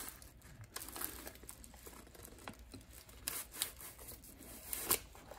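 Sports cards in a mail package being opened, with steady crinkling and rustling of packaging plus sharp tearing and scraping bursts, close up and fairly quiet with no talking.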